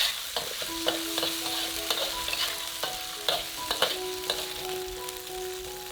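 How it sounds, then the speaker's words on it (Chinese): A spoonful of broad bean paste being stir-fried in hot oil crackles with a bright, constant sizzle, punctuated by quick spatula scrapes and clicks against the wok, close and unaccompanied by speech. "放1小勺豆瓣酱，把红油炒出来。"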